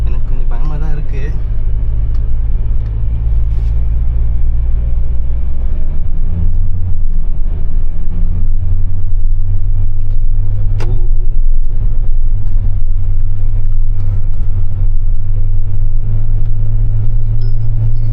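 A Mahindra Thar Roxx 5-door drives across the sand at Kovalam Beach in second gear. The engine holds a loud, steady, close low rumble throughout, and a voice talks over it.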